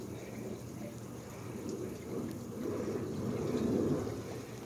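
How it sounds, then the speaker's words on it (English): A temporary underwater pump bubbles water in an unfinished bullfrog pool, a soft, steady gurgling wash that swells slightly louder toward the end, faint and continuous with no talking. "It's got a temporary pump underwater pushing bubbles."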